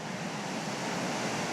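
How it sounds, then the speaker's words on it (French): A violent wind during a total solar eclipse roars as a dense, unbroken broadband rush. It is steady and fairly loud, with gusts buffeting the microphone and no voices. "Le vent est incroyablement violent."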